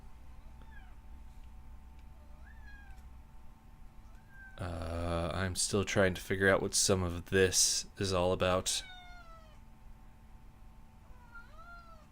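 A cat meows in a rapid, insistent run of loud calls up close, with a person talking quietly before and after.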